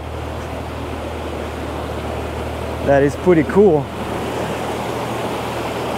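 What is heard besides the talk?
small waterfall and fast-moving river water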